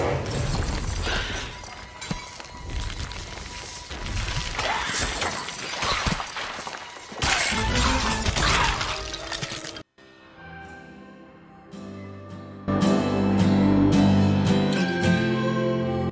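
Ancient skeleton in the game Sea of Thieves gives off a glassy, shattering and tinkling sound effect, a cluttered layer followed by bright chiming tones that swell louder toward the end, with no voices.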